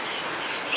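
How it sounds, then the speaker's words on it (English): Caged pet birds along a street in Taipei's bird pet area give faint, brief chirps over a soft background hum. "It's just birds everywhere."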